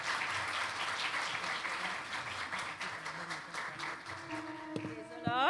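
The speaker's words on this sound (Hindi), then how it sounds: "भरपूर तालियों में।" Applause from a church congregation at a Good Friday service fills the room with a steady, diffuse patter, thinning toward the end as a voice and sustained music come in.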